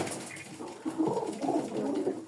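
Pigeons coo softly and repeatedly at close range, low burbling calls overlapping in a steady murmur.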